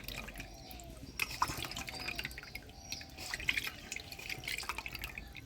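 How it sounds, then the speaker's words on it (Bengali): Bhola fish being washed clean in water, with a steady run of close drips and light splashes continuing without pause throughout. "মাছগুলো একদম পরিষ্কার করে ধুয়ে নিচ্ছি"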